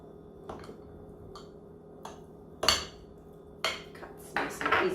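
A knife cuts into a cooled Marlborough pie, an apple custard pie in a crust, on a plate: soft isolated clicks and scrapes, then louder crunchy cuts through the crust near the end, close and quiet.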